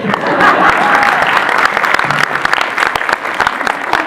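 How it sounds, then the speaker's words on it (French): A film-debate audience gives a loud, close burst of applause with sharp individual claps, and a few voices murmur faintly underneath. "Applaudissements, s'il vous plaît"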